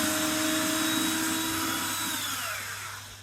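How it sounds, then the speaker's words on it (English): Screws being driven out of a sash window frame with a power screwdriver, a close, steady motor whine that slowly winds down in pitch and fades toward the end, with no talk. "take these screws out."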